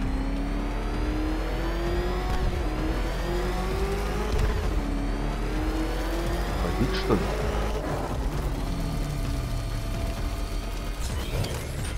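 The Batmobile in Batman: Arkham Knight roars continuously, its engine pitch rising and dropping with gear shifts during a race, loud and close, with mechanical clanks over the top and voices talking over it.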